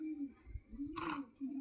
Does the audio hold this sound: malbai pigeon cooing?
yes